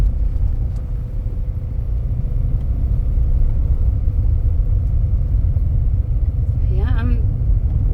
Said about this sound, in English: I wonder if I can get some bumping on this gravel over here.